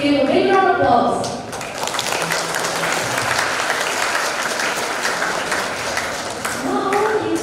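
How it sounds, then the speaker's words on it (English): Sustained applause from the audience at a junior high school English speech competition final in Banyuwangi. A voice speaks over the start, then a dense even roar of clapping follows, and talk returns near the end. "To all audience, please give a big round of applause."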